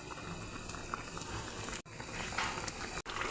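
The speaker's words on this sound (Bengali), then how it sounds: "এই যে দেখুন ঝোলটা সুন্দর ফুটে গেছে" Tengra fish curry gravy boiling in a pot, a steady bubbling and patter that carries on throughout with two brief dropouts, moderately quiet and with no voices.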